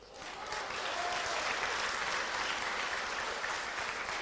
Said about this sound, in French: ça vous pouvez l'applaudir avant